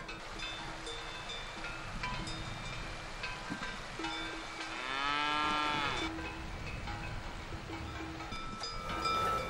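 A cow in a mountain pasture gives one drawn-out moo midway, fairly close, amid a quiet outdoor background with faint tonal sounds.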